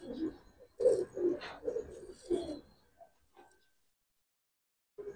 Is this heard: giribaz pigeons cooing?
yes